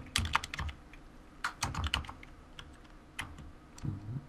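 Close, light typing on a computer keyboard comes in quick clusters of clicks with short pauses between them, and no one speaks.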